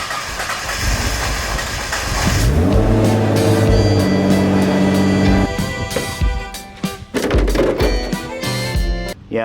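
Nissan R35 GTR moved out at low speed, a close engine rumble with a rising rev that settles into a steady hum, then breaks into rattles and shuffling noises toward the end.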